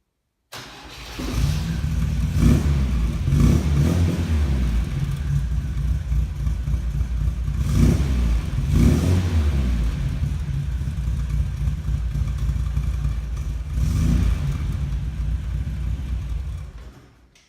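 An MGB GT Sebring classic car engine, started on choke, cranks briefly, then catches and runs with a steady, loud mid-range rumble and a few short revs rising above the idle.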